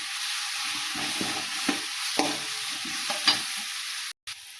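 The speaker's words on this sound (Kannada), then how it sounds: "ಈಗ ಇದನ್ನು ಚೆಂದಾಗಿ ಮಿಕ್ಸ್ ಮಾಡ್ತೇವೆ ನಾವು." Mung bean curry with turmeric powder is stirred in a hot pan, a steady sizzle broken by several scraping strokes of a spoon at an uneven rhythm, close and alone.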